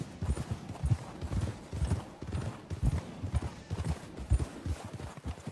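Steady clip-clop of horse hooves on the ground in an even walking rhythm in the video game Red Dead Redemption 2, close and moderately loud, with faint background ambience.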